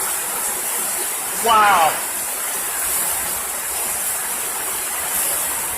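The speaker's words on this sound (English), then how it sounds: "The water's rushing past so hard." Forceful river water rushes past at an outdoor festival spot, a dense, constant hissing roar close by, briefly broken by a short exclamation from a voice.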